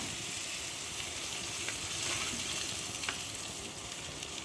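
Paneer tomato chutney sweetened with a teaspoon of sugar sizzles steadily in the pan, a close, continuous crackling hiss that holds even throughout with no voices.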